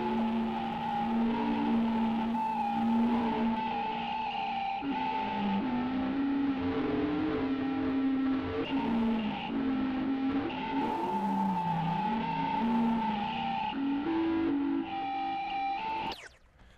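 Reaktor Spark software synthesizer producing a feedback-based generated tone, a sustained droning, gritty sound with slowly wavering pitch that holds steady and loud before cutting off abruptly at the end.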